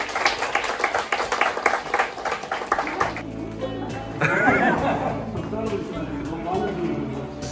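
Staff in a school office give a short round of close, rhythmic clapping that lasts about three seconds, then chatter and light laughter follow.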